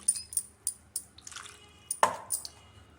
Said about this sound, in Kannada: ಇದಕ್ಕೆ ಸ್ವಲ್ಪ ನೀರು ಹಾಕ್ತೀನಿ.